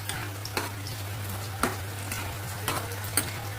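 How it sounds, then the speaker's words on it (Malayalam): Cucumber and plantain mashed in a pan, with soft scraping and a few sharp utensil taps against the pan at irregular intervals over a constant low electrical hum. "നമ്മുടെ വെള്ളരിക്കായും അതുപോലെ തന്നെ പഴവും നല്ലോണം ഒന്ന് ഉടച്ചു കൊടുക്കാം"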